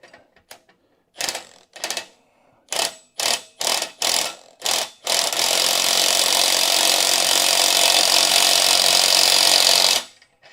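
A ratchet tightening a jam nut on a sim racing rig clicks in six or seven short separate bursts, then runs in one long, steady, loud ratcheting stretch that stops abruptly, close up with no talk.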